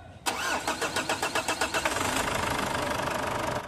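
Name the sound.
Ford Everest diesel engine being started, slow hard start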